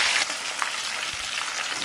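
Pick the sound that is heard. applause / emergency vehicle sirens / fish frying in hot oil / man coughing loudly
fish frying in hot oil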